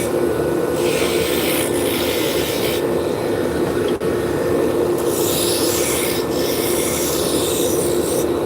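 Picture frame hanging wire is pulled back and forth across wood to burn lines, giving a loud, continuous raspy rubbing with a steady sawing rhythm and a brief catch midway.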